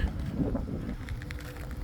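Boat motor running as a low, steady rumbling drone mixed with wind buffeting, faint and continuous throughout.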